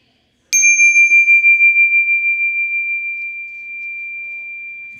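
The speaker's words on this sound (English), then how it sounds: "Here's the bell to start." A single bell or chime strike marks the start of a 4-7-8 breathing exercise, a clear pure ringing tone that sounds alone and sustains with a slowly fading, wavering decay across several seconds.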